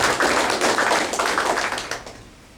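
Audience applauding partner organizations at a community gathering, a dense burst of many hands clapping that is lively at first and then thins and fades over about two seconds, no voices.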